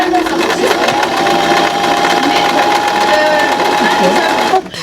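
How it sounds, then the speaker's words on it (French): A sewing machine runs steadily for several seconds at a textile workshop, a loud continuous motor whir with a faint steady tone, nearly filling the clip before stopping abruptly near the end. "Et là pour cela vous avez les machines à coudre."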